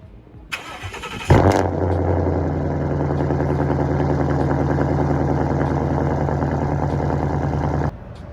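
A 2016 Ford Mustang GT V8 cranks briefly, fires up with a loud surge, then settles into a steady, deep, rumbling idle that holds close and even until it cuts off near the end.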